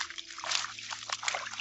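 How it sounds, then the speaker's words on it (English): Clothes being washed by hand in water: steady, close sloshing and trickling as wet fabric is rubbed and worked, a continuous splashy texture throughout. "keep going and wash it all the way down like that"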